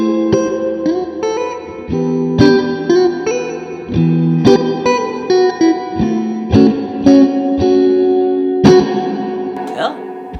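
Electric guitar played through an Orange Super Crush 100 amp with the reverb set high, chords and notes ringing out in a wash of long reverb tails, loud and close, each strum blurring into the next.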